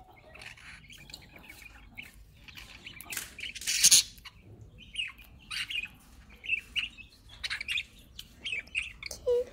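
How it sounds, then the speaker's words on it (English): A pet bird chirps and squawks in short, scattered bursts of high calls, some sharper and louder than others, close by in a quiet room. "Hello bird up here."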